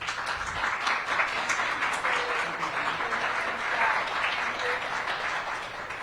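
Audience applause at a mayor's ribbon cutting for a medical health clinic, steady sustained clapping from a crowd at moderate distance, with faint voices mixed underneath.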